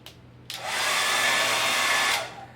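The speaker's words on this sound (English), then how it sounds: "Hairdryer." A hair dryer powered by a Mango Power E portable power station switches on with a click, then blows a steady, loud airy whoosh for under two seconds before winding down.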